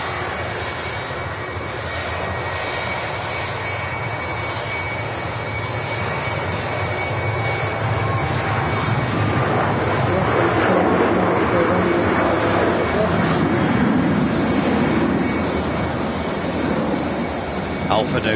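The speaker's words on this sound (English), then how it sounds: "Alpha November on the reg of this Jet 2-757, heading off to Lanzarote." Jet2 Boeing 757 airliner taking off from Manchester Airport bound for Lanzarote, a loud sustained jet engine roar building steadily over about eighteen seconds, steady and unbroken with a broad rumbling wash and some faint voices in the background.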